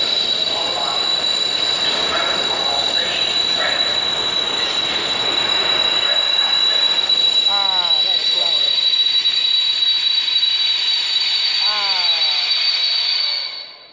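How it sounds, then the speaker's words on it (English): A Class 66 freight train rolls past loudly at Nottingham station, its unoiled brakes letting out a sustained high-pitched squeal with wavering shrieks near the end before it cuts off. "Brakes are loud, man. They need oiling."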